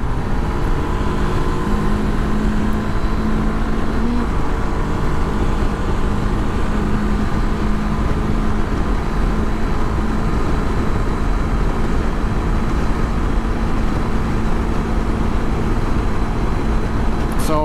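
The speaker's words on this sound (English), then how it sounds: "You can see how bike is delivering linearly power" Steady engine drone and heavy wind rush from a fully loaded Honda CB500X with a pillion cruising at about 140 km/h on the highway, continuous and loud throughout.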